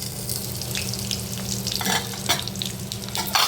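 Capsicum pieces flipped over in a hot pan: a continuous frying hiss broken by bursts of scraping and clattering as the pieces are turned, fairly close, with no voices.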